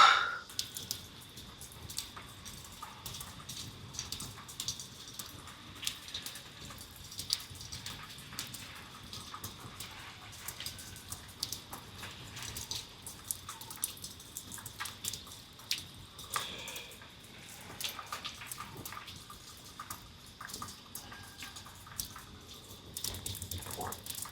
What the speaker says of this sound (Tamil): மேலே தண்ணிலாம் சொட்டுது